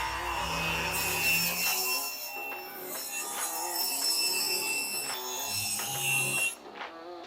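A table saw rips a wood board to width for a dovetail drawer, a steady loud whine with rasping cut texture running for about six and a half seconds before the blade spins down and stops.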